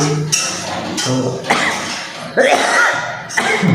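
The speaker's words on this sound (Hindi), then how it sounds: "तो अभी चल गई खांसी क्योंकि सब्जी बहुत बनी है तड़क भड़क" Several harsh coughs come in bursts close to the microphone, with a spicy vegetable dish sizzling in the kitchen and a light clink in the background.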